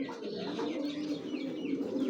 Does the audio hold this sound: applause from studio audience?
no